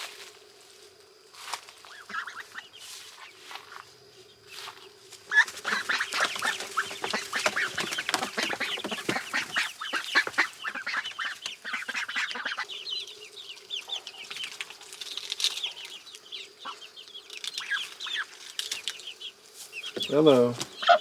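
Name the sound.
ducks quacking near the duck ramp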